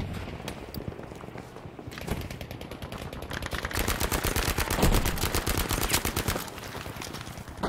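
Rapid SMG gunfire in Battlefield 5, long bursts of fast, evenly spaced shots that grow louder and denser midway, set against a distant battle backdrop with no talking.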